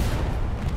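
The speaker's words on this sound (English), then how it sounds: "The bombs." Bombs explode in Hell Let Loose as a continuous low, rumbling roar of artillery-like blasts, loud and close, with no voices.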